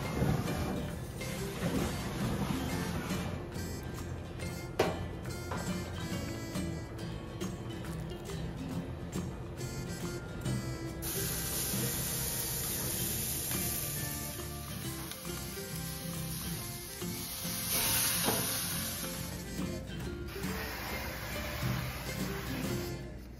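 Skirt steak sizzles steadily in a hot pan for beef served with chimichurri, a dense continuous crackle holding loud and close throughout with small spits and pops and no talking.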